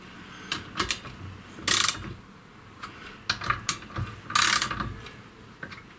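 Hand ratchet snugging the cylinder head bolts on a 1937 Briggs and Stratton Model A engine, faint irregular clicking bursts with a few louder rasping pulls, close by and quiet.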